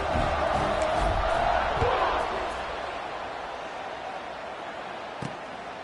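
A football stadium crowd roars after a touchdown drive in a Towson vs Memphis game, a broad sustained wash of cheering that swells early, then settles into a steady murmur beneath a commentator's voice.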